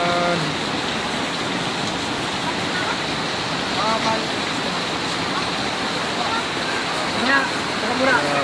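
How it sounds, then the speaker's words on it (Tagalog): Heavy rain pours down in a dense, constant roar during flooding, with faint voices now and then beneath the downpour. "napakalakas ng ulan"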